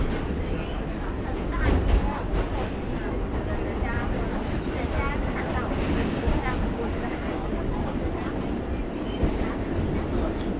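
Rumbling ride aboard the N train on the New York City subway, a continuous low roar of wheels and car body with rattling and faint clacks, steady throughout without clear speech.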